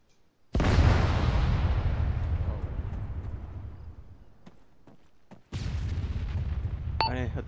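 Two deep, heavy explosions in the video game Arma 3 boom close by, the first rolling out into a long fading rumble before the second blast hits, followed by brief high chirps.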